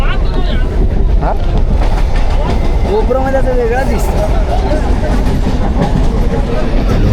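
A local train runs on its rails with a loud, continuous rumble and rattle, and people talk over it close to the microphone.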